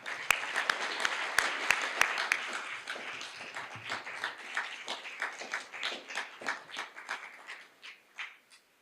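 Audience applause at a university business college alumni awards ceremony, a few sharp nearby claps opening into a fading round of crowd clapping, fairly faint and distant.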